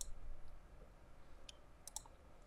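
A few faint mouse clicks on the zoom-out button of a free online graphing calculator: a single soft click, then a closer pair of quick clicks, over quiet room noise.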